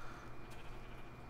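A sheep in the Minecraft video game bleats once, short and faint, over a steady low game background hum.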